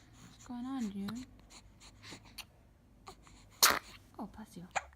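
A small, high-pitched sneeze bursts out amid soft fussing vocal sounds and breathy noises, with a quieter follow-up sneeze shortly after.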